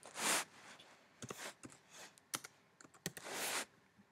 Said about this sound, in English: Okay, and now you're gonna type in armor.